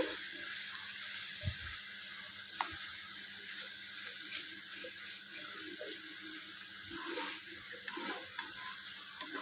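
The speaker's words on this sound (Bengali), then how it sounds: "আমি ভাজিটা একটু নেড়ে চেড়ে নিচ্ছি" Egg and kayta bhaji is stirred in a frying pan, a low continuous sizzle running throughout with soft scrapes and occasional sharper taps of the spatula, fairly quiet and close.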